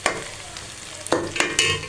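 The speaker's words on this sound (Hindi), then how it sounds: "जब तक हमारे प्याज फ्राई होते हैं" Onions fry in a pan in a home kitchen with a soft continuous sizzle, broken by a few sharp scraping stirs near the end.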